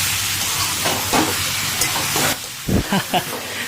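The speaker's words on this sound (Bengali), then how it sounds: "এই যে আওয়াজটা শুনে বুঝতেই পারছেন যে কি সুন্দর একটা মানে ভাজা ভাজা ব্যাপার চলছে" Potatoes, long beans and soya chunks fry with masala in a pan for a Jharkhand-style dry sabzi, giving a dense, close sizzling hiss that eases briefly before a few scraping stirs near the end.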